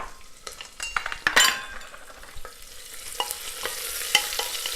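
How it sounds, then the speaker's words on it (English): Onions and green chilies with cumin seeds fry in a pan, crackling and sizzling under busy stirring, with clinks of a utensil against the pan up close and no talking. "Now we're going to fry the onions until they're lovely golden brown"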